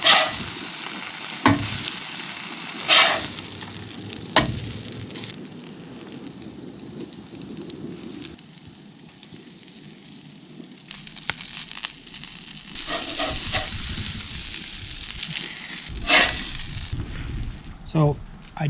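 Burger patties fry and sizzle in a pan during a truck camping trip, with a steady hiss broken by clatters and scraping, while a person talks now and then.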